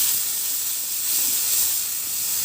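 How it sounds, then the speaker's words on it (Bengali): Garlic and small shrimp fry in hot oil in a pan, giving a loud, constant hiss and sizzle up close with no pauses. "রসুনটা একদমই কড়া করে ভেজে নিয়ে সুন্দর একটা ফ্লেভার বের হওয়া পর্যন্ত অপেক্ষা করব।"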